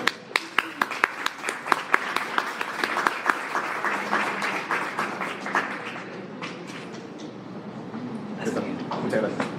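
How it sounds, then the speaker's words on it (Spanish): An audience at a talk breaks into sustained applause welcoming a speaker, opening with a few distinct claps that swell into dense, steady clapping from many hands and carry on for nearly ten seconds. "Así que le damos un aplauso de bienvenida."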